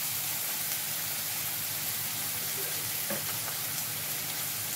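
Egg omelette curry mixture being stirred in a frying pan, giving a steady, close sizzling hiss with soft scraping throughout and no voices.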